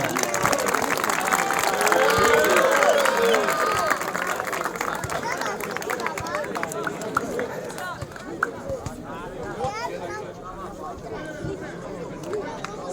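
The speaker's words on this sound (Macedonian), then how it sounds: "Го замолувам за еден погласен аплауз." An outdoor crowd at a football tournament award ceremony in Jegunovce claps in a sustained round of applause, mixed with crowd chatter and background noise, fading somewhat after the first few seconds.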